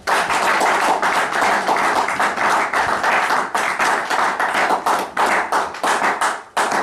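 A church congregation claps together in steady, loud rhythm, dense hand claps filling the space continuously before a brief pause near the end.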